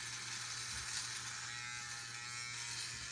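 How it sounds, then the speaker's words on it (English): A small single-blade Uno electric beard shaver runs at close range, its steady high buzzing drone holding unbroken at an even level throughout, with no talking. "this Uno shaver, it's small, it's 1 blade, but it's a beast"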